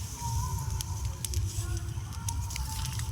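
An outdoor fire burns steadily with a low rumbling roar and scattered crackles and pops while potatoes roast in it on a winter night, with faint voices in the background.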